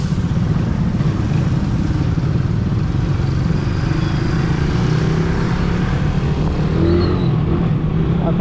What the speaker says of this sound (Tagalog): Pero ngayon kasalukuyan pa tayo napasok dito sa traffic kasi nandito tayo sa mismong city